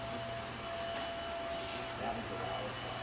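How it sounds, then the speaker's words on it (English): A vacuum cleaner drones steadily somewhere in a marina office, a faint, even whine and rumble heard at a distance without pause. "Sorry, they're cleaning house right now. Vacuum's loud."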